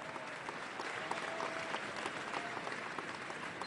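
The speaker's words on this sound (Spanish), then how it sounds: "Les pido un aplauso por su paciencia" A large open-air crowd at a social movements gathering in Santa Cruz, Bolivia, applauds steadily and densely from start to finish, the clapping broad and evenly sustained with a faint murmur of voices beneath.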